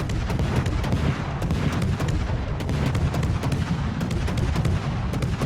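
The French cruiser Colbert firing shells in World of Warships: a dense, unbroken barrage of booming gun salvos, steady and loud throughout, with sharp cracks repeating every fraction of a second over a rumbling low roar.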